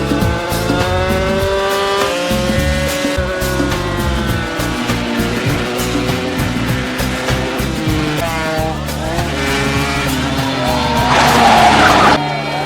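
Racing cars roar past continuously in a car race scene from a film. Engines rev and tires squeal in a loud, dense mix that swells louder near the end.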